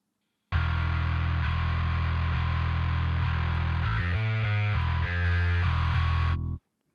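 A bass guitar runs through a distortion preset in the Parallax plugin for a metal mix, producing a loud, sustained, buzzing low drone about six seconds long with a short flurry of picked notes near the end.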